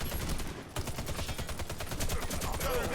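ZX84 machine gun firing in the shooter Warface, a rapid steady burst of close, loud automatic shots in an even rhythm lasting throughout, with a brief dip in the fire early on.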